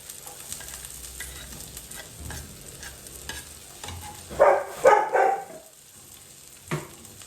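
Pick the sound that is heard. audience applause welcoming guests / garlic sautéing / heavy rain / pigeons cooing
garlic sautéing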